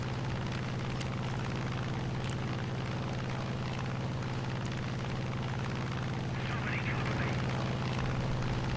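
Steady propeller drone of a P-47 fighter carrying rockets in War Thunder, a continuous engine hum running unbroken throughout with faint rumbling bursts near the end.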